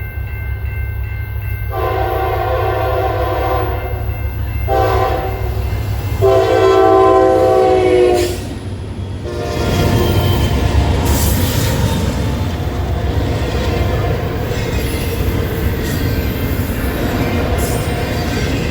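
An MEC locomotive, number 7875, with Pan Am and CSX history, sounds its horn in several loud sustained blasts, then the train rolls past in a long steady rumble of wheels on rail with occasional squeals.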